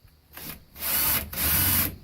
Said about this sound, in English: I'm going to drill right into the stud